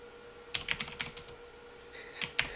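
Nearby computer keyboard typing comes in two short quick bursts of crisp key clacks separated by a pause, with no talking over it.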